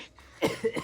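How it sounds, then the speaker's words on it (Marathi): A short bout of close, loud coughing from a man hoarse after singing the day before at a home Ganesh festival celebration in Konkan: one strong cough followed by two smaller ones in quick succession. "कालचा गाऊन खोकला आलाय"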